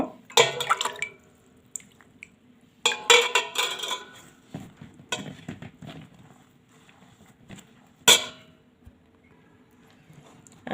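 Kheer mixture of boiled, cooled milk being stirred in a bowl, with scattered clinks and wet sloshing bursts, a few louder scrapes among quieter stretches, no voices.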